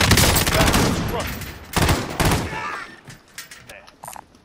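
Small caliber gunfire rattles in rapid bursts, loud and fairly close at first, then thins to scattered, quieter shots, with voices briefly audible.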